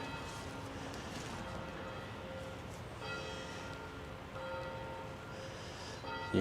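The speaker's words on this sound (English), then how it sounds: "You hear the bells of the church in the background, kind of fitting for this foggy morning" Church bells ring in the distance on a foggy morning at a pioneer cemetery, Maple Hill Cemetery in Lenox, Illinois. Steady, sustained tolling tones overlap under quiet outdoor ambience.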